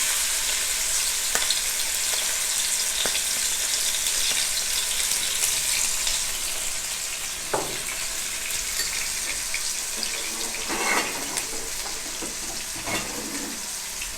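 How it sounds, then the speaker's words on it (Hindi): Chopped onion frying in oil in a pan, a loud continuous hiss and crackle that eases slightly midway, with a few scrapes and clatters of stirring toward the end; no talk. "अब ऑयल के अंदर हम लोग हमारा चॉप किया हुआ प्याज डालेंगे।"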